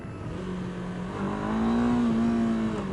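A 2017 Honda CBR 500R motorcycle pulls away in first gear, its engine note climbing steadily in pitch as it accelerates, fairly close and alone with no talk.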